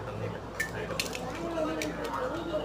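Chili powder being stirred into food in a cooking pan, with soft scraping and light metallic clinks of a utensil, faint and close, under a person talking.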